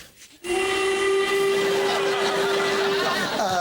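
A steam train whistle blows one long, steady, loud blast with a hissing rush of steam around it, following a brief muffled moment of background noise.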